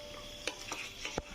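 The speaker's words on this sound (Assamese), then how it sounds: "এতিয়া ভালকে চিকেনখিনি মিক্স কৰিব যাতে মছলাখিনি সবতে লাগি যায়।" Chicken mixed with spices being stirred in a pot, a few sharp scrapes and clinks of the spoon over a faint low sizzle, close up, with no voices.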